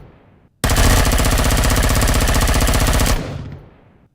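Automatic weapon fire aimed at a turret in the space game Empyrion: Galactic Survival, a loud continuous rapid burst lasting over two seconds that cuts off abruptly and leaves a fading echoing tail, with no talk.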